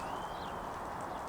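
Horses walk at a slow clip-clop through a snowy winter farm paddock fenced with three-board vinyl, the hoofbeats soft and distant beneath a steady broadband outdoor hiss, with no voices.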